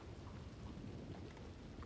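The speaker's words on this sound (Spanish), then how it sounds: "Que hace frío, joder, está lloviendo." Continuous patter of rain with low rolling rumble of thunder underneath in a roleplay video game, steady and close, no voices.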